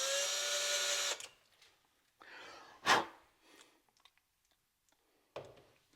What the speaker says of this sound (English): We're going to pre-drill with a smaller bit here.